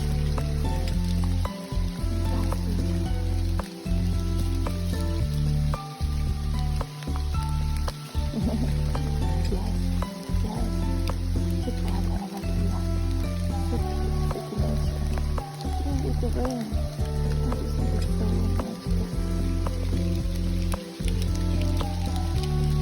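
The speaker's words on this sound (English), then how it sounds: "You can see more the rain falling down." Steady rain falls in a countryside forest on a rainy morning, a dense continuous patter with scattered drips and brief low thumps, close and even throughout with no talking.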